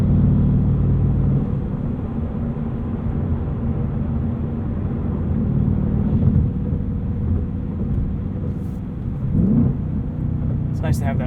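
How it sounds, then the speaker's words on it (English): Tire noise from a 2022 Ford Mustang Mach 1 with a manual gearbox and Handling Package, rolling from concrete onto asphalt: a steady loud low road roar heard from inside the cabin, with the tone shifting slightly partway through. "You can kind of get an idea of what the tires sound like on concrete versus asphalt."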